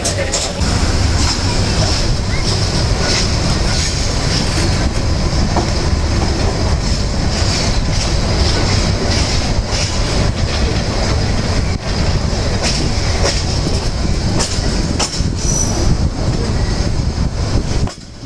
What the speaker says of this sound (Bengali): ঝিকঝিক ঝিকঝিক ট্রেন চলার শব্দ হচ্ছে